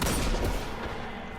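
A weapon fires in the video game Destiny, with dense, loud, close bursts of gunfire filling the short moment, sustained and rough with no talk over it.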